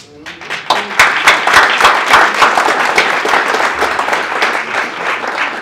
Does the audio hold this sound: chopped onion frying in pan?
no